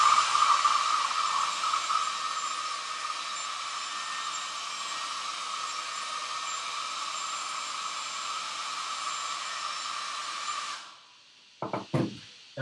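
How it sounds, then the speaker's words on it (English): A Conair Vagabond 1600 hair dryer blows steadily over a watercolor bird painting, a constant whirring hum with an airy hiss that runs for about eleven seconds and then cuts off, followed by a few soft handling knocks. "I'm going to hit it with my hairdryer."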